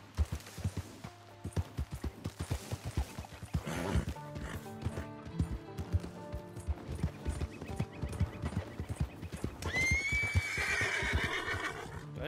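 In Red Dead Redemption 2, a horse's hooves clop in a quick, steady rhythm, then a loud whinny rises near the end, all close and clear with no talking.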